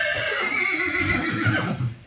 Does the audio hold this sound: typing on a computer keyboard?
no